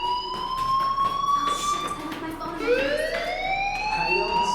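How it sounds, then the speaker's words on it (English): A fire alarm in the video game Life is Strange sounds as a loud, sustained electronic tone that holds steady, then dips and rises again, with voices and room noise underneath. "do you hear that fire alarm? That means you should be outside."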